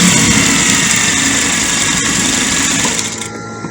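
Sewing machine stitching a peplum dress, running steadily and loudly at close range with a continuous mechanical whir that softens and trails off near the end.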